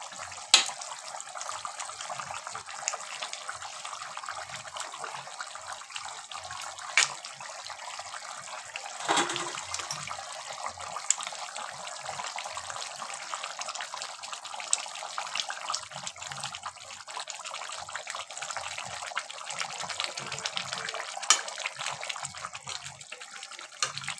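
Rohu fish pieces going one by one into hot oil in a pan, giving a steady, bright sizzle and hiss that holds through the clip, swelling slightly as each piece lands, with no voices.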